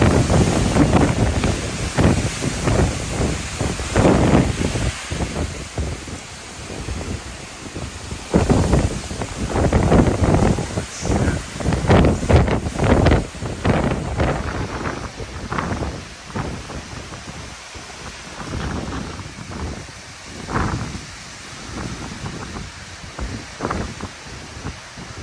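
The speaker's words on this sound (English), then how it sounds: "Must be 100-mile-an-hour wind." Strong gusty wind in a thunderstorm, roaring in loud surging bursts and buffeting the microphone continuously, with no voices.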